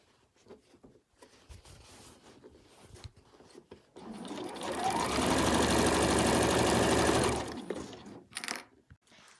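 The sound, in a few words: sewing machine stitching seam allowances of overlocker cover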